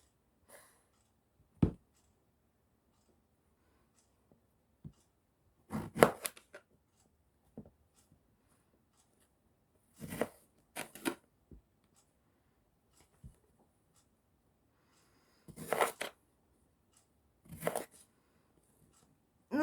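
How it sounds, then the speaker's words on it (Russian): Knife slowly cutting vegetables for eggplant soup on a board, a few isolated sharp chops and short clusters of cuts separated by long quiet pauses, close and fairly faint. "режу я все медленно"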